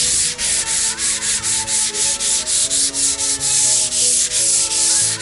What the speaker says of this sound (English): Light sand.